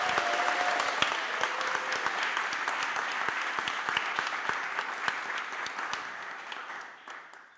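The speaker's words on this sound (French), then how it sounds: "Je vous laisse faire un tonnerre d'applaudissements pour William, Brice, Guillaume et Adrien" Sustained audience applause at a Paris demo day, dense steady clapping from a crowd that fades toward the end, with no talking.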